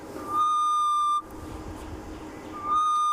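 A bird known in Afrikaans as the ghost bird gives its alarm call, a clear, high tonal call twice, a sustained whistle with harmonics, separated by a pause over faint background noise, at sunrise on safari.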